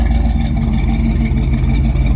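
A 1968 Dodge D100 Custom truck engine runs steadily as the truck is driven out of a garage, a loud, close low rumble that holds an even drone throughout.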